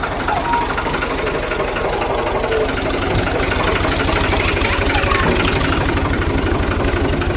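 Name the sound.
tractor engine running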